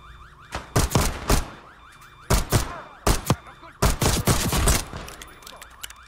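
Full-auto gunfire in the Black Ops 6 campaign, loud rapid bursts in several volleys with brief gaps, over a wailing alarm tone in the background.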